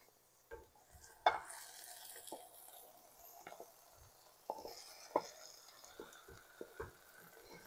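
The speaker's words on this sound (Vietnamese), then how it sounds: "bây giờ mình trộn đều lên như thế này" Tomato and tofu pieces being stirred together in a pot for a shrimp noodle soup, with soft scraping and clinking of a utensil against the pot in scattered taps, fairly quiet and close.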